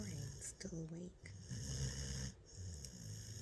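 Snoring from a person, a steady run of rough, rhythmic breaths close by with a few short pauses between them.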